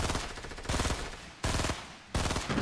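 Burst rifle fire from Fortnite comes in three sharp, loud volleys of rapid clustered shots, evenly spaced with brief gaps between them.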